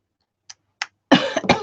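Two faint, short throat sounds lead into a louder, raspy cough burst from a nearby person, a brief pair of harsh exhalations at close range.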